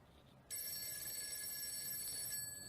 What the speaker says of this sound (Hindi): इसी के साथ टेलीफोन की घंटी बज उठी।